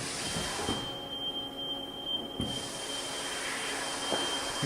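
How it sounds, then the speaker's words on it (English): A 2013 Haas EC-400 horizontal machining center changes pallets, giving a steady mechanical whir and hum with a high tonal whine and a few soft clunks as the rotary pallet changer swings. "Doing a pallet change."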